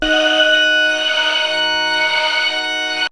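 A synth pad built on noise unison with a fast LFO holds a bright, sustained chord, steady and alone, then cuts off abruptly at the end.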